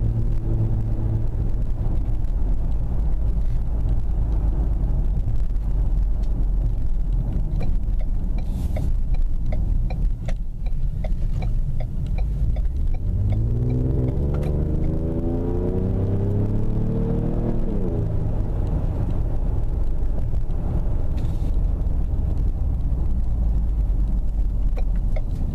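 Ford Explorer Sport fitted with a Borla exhaust, a long stretch of low, steady cabin rumble with wind buffeting, rising into one clear accelerating engine sweep partway through before easing back to a constant drone.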